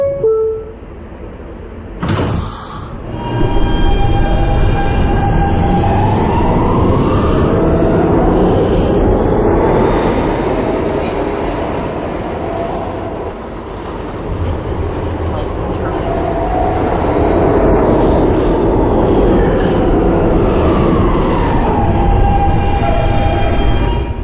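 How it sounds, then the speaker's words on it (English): A subway train running on the K line hums and rumbles steadily for a long stretch, its motor tone rising and falling as it speeds up and slows, after a brief sharp click near the start. "This is a Halson terminal-bound B train via the K line."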